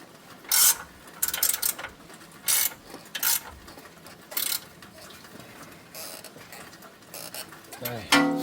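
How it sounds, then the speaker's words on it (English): A ratchet tightens a tie rod nut on a Volvo XC90 in a garage: short bursts of clicking, several separate runs of rapid ratcheting with quiet gaps between them, fairly close. "So this nut we're gonna tighten it up and torque it to 50 to 60 pound-feet of torque."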